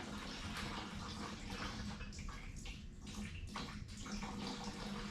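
Water drains steadily and splashes from the radiator of a Moline tractor, a continuous close gushing, trickling rush with no talking.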